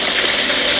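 Water rushes steadily through a drip irrigation venturi on a farm, a close, loud, continuous gushing hiss with no break.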